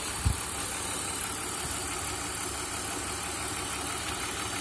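A 1999 BMW 323i's 170-horsepower inline-six engine idles steadily nearby, a constant even rumble with no revving and no voices.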